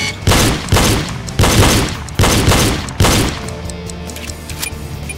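Gunfire in the shooting game Reload, five loud heavy shots spaced roughly a second apart, each booming and then decaying, followed by a quieter rumbling tail.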